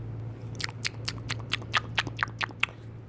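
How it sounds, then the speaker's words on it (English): Chewing and swallowing sounds played from a speaker, a rapid series of about a dozen wet, clicky mouth noises in close succession over a low steady hum. "It's like people chewing or something, or swallowing."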